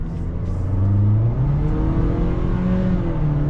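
A 2025 Toyota Corolla SE accelerates in normal drive mode, its engine heard loud and close from inside, droning as revs climb, dip slightly and climb again with a whirring rise in pitch.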